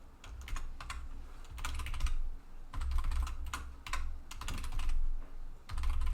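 A temporary password is typed on a computer keyboard in quick bursts of close, crisp key clicks separated by short pauses.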